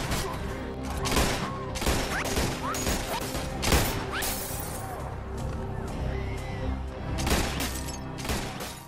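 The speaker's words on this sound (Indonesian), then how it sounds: "Setelah menghabisi Sobur, ia langsung menembaki semua karyawan Jeremy yang selama ini telah menipu semua orang" Dense action-film gunfire, with volleys of sharp cracks and crashing impacts in a loud, busy mix as a gunman shoots down office staff, steady throughout.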